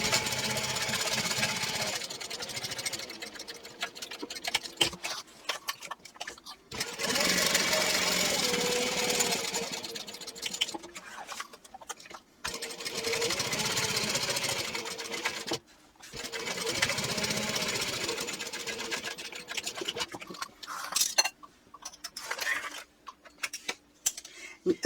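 A sewing machine runs a shadow stitch along a clutch seam in bursts of rapid, steady mechanical whirring and clatter, separated by short pauses with faint handling noise.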